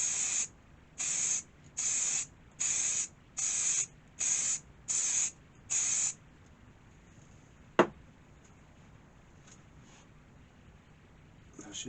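Spray paint laid on as a final coat over PC parts in a series of eight short, evenly spaced hissing bursts, close and crisp, followed by a sharp click and quiet room tone.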